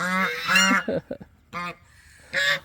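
A goose honks several times at close range in loud, harsh bursts separated by short pauses, during the laying season.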